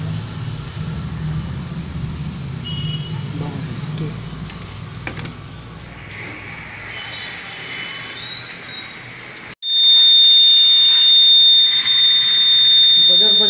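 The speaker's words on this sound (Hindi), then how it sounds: "बजर बजने लगा" A railway signal buzzer at an Indian railway post cuts in suddenly as a loud, steady, high-pitched continuous tone, following quiet room ambience with faint voices.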